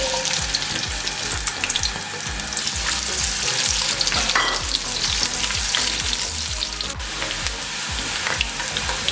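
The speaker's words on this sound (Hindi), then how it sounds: "प्याज को हमने गोल्डन होने तक फ्राई कर लिया है" Onions fry in hot oil with a loud, dense, continuous crackle. A spoon stirs them now and then, and no voice is heard.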